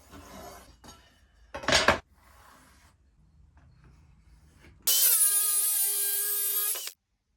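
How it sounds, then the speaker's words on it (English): A wooden panel is cut to fit a gap in a fitted wardrobe, with faint scraping and knocks, one sharp burst, then a loud steady buzzing saw cut of about two seconds that stops abruptly. "I need to just cut one to fit this gap."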